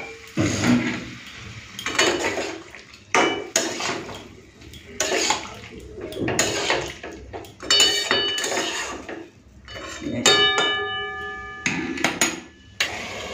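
Metal cookware clanks and bangs in a kitchen as a pot is covered with a lid while mustard hilsa is being cooked, giving repeated loud knocks and ringing scrapes with brief gaps between them.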